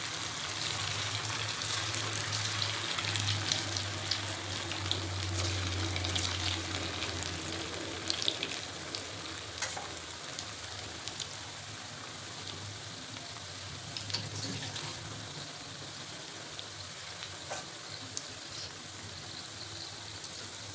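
Steady, gentle sizzle of upvas sabudana bhaji made from soaked sago frying in hot oil, a soft continuous bubbling hiss with faint crackles and occasional light clicks, no talking.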